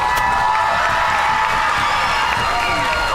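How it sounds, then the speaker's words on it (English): A crowd cheers, whoops and claps for the newly crowned king and queen at a Polynesian club event. The roar is steady and fairly loud across the moment, with shouting voices mixed in. "One more time, ladies and gentlemen, round of applause for our king and queen for this year."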